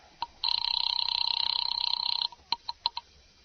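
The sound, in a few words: telephone ringing in radio drama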